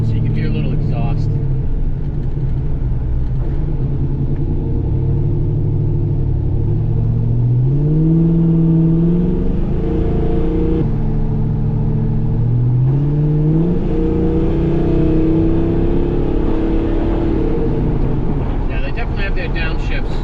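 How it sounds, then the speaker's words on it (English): A 2001 Chevrolet Silverado's engine and exhaust rumble low and steady while driving, rising briefly as it revs through gear changes, with a voice speaking over it. "Roll the window down so you can hear a little exhaust."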